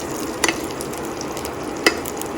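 Butter melting in a hot pan for shahi tukray, a steady soft sizzle of frying with two brief sharper crackles, close and alone without talk.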